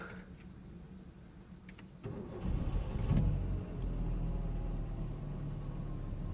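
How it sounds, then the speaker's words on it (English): A Citroen C4 1.4 with injector circuit faults starts up: a quiet interior with faint background sounds gives way to the engine catching, then a steady low rumble of idling that continues to the end. "Okay, so the car started just fine."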